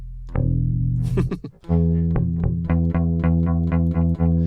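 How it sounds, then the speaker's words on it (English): An electric guitar played through an octave-down pitch pedal, with thick low tones under repeated picked notes in a quick steady rhythm, loud and close. "when you depress the pedal, it sounds like this"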